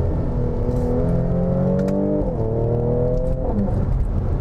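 A 2017 Mercedes-AMG C43 holds its engine at a steady rev for a launch, giving a loud, continuous, close-up drone that climbs in pitch, dips briefly and rises again.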